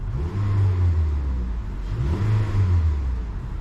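A 2014 Honda Accord with a 6-speed transmission revs its engine twice, each rise swelling and falling away smoothly, close and fairly loud, with a steady idle hum between the revs.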